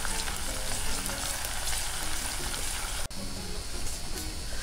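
Chopped onion and garlic sauté in half a cup of oil in a pan, giving a constant loud, dense hiss of frying that drops out for an instant partway through and then carries on, with no voices.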